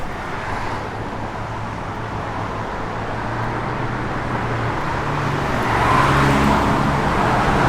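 A 1955 Chevrolet Nomad with Hooker performance exhaust manifolds and a 700R4 automatic overdrive transmission idles steadily with a low, even engine rumble that grows slightly louder toward the end.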